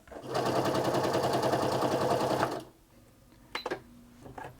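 A Singer Quantum Stylist 9960 sewing machine stitching in a fast, steady rapid-fire whir for a few seconds, then stopping, followed by faint clicks and handling noises.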